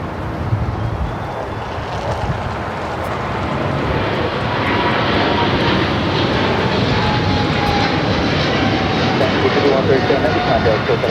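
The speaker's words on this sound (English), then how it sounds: "Are we doing that 777 Freighter now rolling down to 25 left?" A two-year-old Boeing 777 Freighter bound for Taipei rolls down runway 25 left at LAX, its engines building to a broad, steady roar that stays loud and close throughout.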